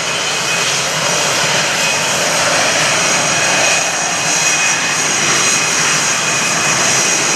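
A navy jet flies a fleet air power demonstration at the 2015 NAS Oceana airshow, a loud, steady, broadband roar that holds for the whole stretch with no voices.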